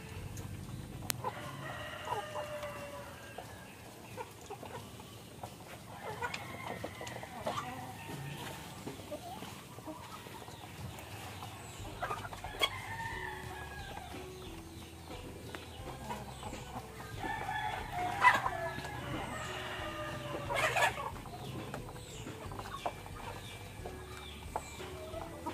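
Backyard chickens cluck and chatter at feeding time, with scattered hen calls and occasional louder squawks over a continuous low rustling background, no speech.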